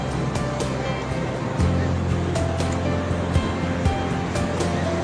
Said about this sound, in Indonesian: Karena ombaknya juga lagi kencang nih ya.